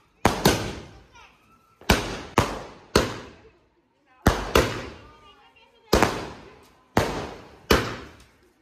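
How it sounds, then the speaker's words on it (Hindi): Sky shot fireworks going off outdoors in a rapid series of about nine sharp, loud bangs, some in quick pairs, each trailing off into a brief rumbling echo between blasts. "एक नंबर स्काई शॉट चल रहा भाई।"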